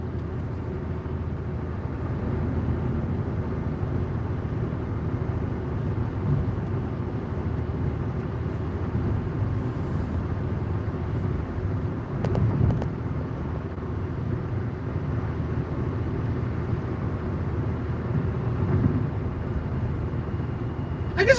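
A car drives along a dirt and gravel road, a steady low rumble of engine and tyres on loose stones holding close and constant throughout, with a brief louder bump near the middle.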